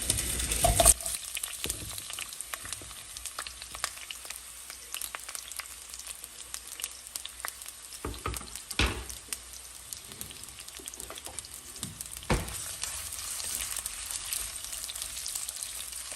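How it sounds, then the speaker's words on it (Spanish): Half an onion sliced into half-moons frying in a pot, a steady soft sizzle with faint crackles and a few louder pops and stirring scrapes, close by, with no talk. "En una cacerola voy a agregar media cebolla en medias lunas"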